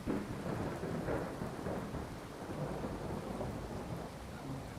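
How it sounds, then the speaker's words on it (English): Steady rain pours with deep rumbles of thunder rolling underneath in the video game Fallout 4, a continuous stormy wash with no voices. "That rain is a little bit loud still."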